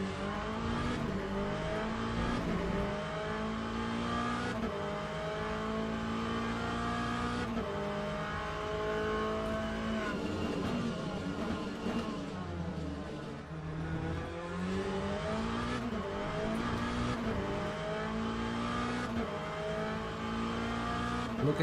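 Race car engine in the Le Mans Ultimate sim, a loud continuous high-revving drone with repeated gear-change steps and rising pitch sweeps as it accelerates through a lap, engine alone throughout.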